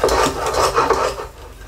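Homemade soap mixture is stirred in a pot with close, rasping scrapes of the utensil against the pot in quick repeated strokes.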